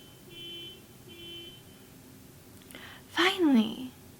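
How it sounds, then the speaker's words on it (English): A car alarm sounds in the background with repeated electronic tones in two short bursts, faint and distant, followed by a brief loud voice. "There's a car alarm going off."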